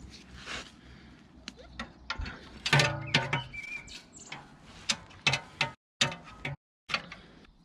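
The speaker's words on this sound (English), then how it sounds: "we're going to have to finish that off with the spanner and the socket" A spanner and socket working loose the rear shock absorber nut on a BMW E87, with irregular metallic clicks, ratcheting and clanks in short bursts and brief pauses between.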